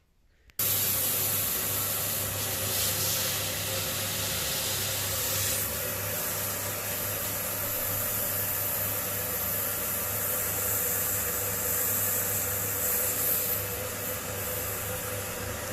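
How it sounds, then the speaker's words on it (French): A vacuum cleaner drawing air out of a vacuum storage bag starts abruptly, then gives off a loud, steady rushing hiss with a low motor hum, running continuously and close by with no voices. "C'est bon, j'ai allumé mon aspirateur."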